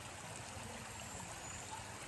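A river flows at a village river crossing used for washing, a steady close rush of water with no talk over it.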